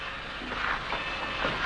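A train rumbling as it gets under way, a steady broad roar and hiss with faint rolling swells, close and continuous with no voices.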